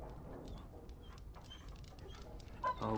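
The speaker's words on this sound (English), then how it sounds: "Bloody dog." A dog whimpers in the video game Dragon Age, a quiet run of soft whines and snuffling sounds, faint and close, ending in a louder, higher cry.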